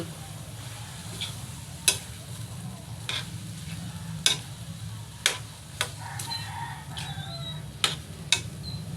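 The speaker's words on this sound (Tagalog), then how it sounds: "Haluin natin konti mga idol." Upo (bottle gourd) and sardines are stirred in a pan. A soft, continuous sizzle runs under a handful of sharp utensil scrapes and clinks against the pan at irregular intervals.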